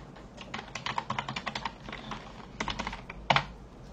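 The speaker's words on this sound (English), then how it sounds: "Clicking frenzy." Rapid bursts of computer keyboard typing and mouse clicking at a desk, close and fairly quiet, in irregular clusters with brief pauses and one sharper click near the end, with no talking.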